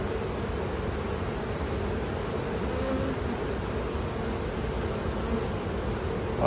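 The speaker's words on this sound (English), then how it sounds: "Lots of bees with pollen on their legs" Honey bees hum in a dense, steady drone during a September hive inspection, a close continuous buzz with no voices.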